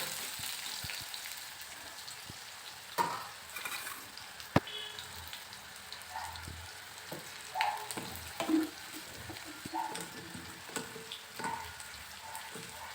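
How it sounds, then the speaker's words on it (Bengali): Cut, washed potatoes frying in a pan, a soft, steady sizzle at moderate distance with occasional light clinks and stirring taps, no talking. "এখন আলু ভালো করে ভেজে নেব।"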